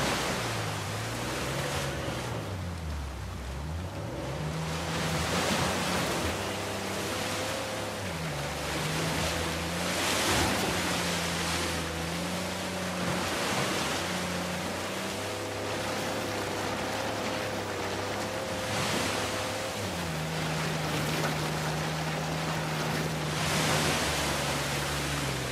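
Steady broadband rush of a waterfall in the video game Uncharted 4, loud and continuous throughout, with low tonal game music or hum running beneath it.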